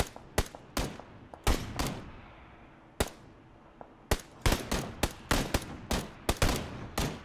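Rapid gunfire in the battle royale game PlayerUnknown's Battlegrounds: sharp, loud cracking shots come singly and in quick bursts, some echoing, with brief gaps and then a faster irregular volley near the end.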